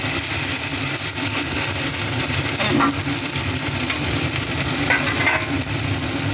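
A spatula stirs poppy seed, mustard and peanut paste frying in a pan, the constant loud sizzle broken by a couple of short scraping strokes.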